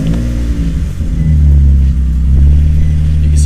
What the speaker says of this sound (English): Go ahead and start up your engine and warm it up to normal operating temperature